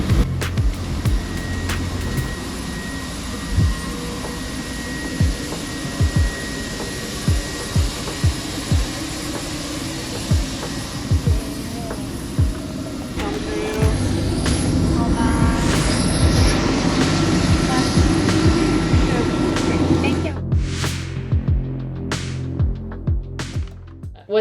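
Steady, loud engine drone fills the cabin of a NASA aircraft in flight, with scattered clicks and rattles. The roar swells partway through, then gives way to sparse crackling knocks near the end.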